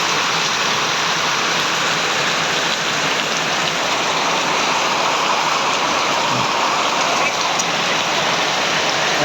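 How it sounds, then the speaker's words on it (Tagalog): Heavy rain pours outside in Payatas B, a loud, steady, dense hiss of water hitting surfaces and ground, constant throughout with no break and no voices on top. "Papakita ko sa inyo sa labas kung gaano kalakas ang ulan."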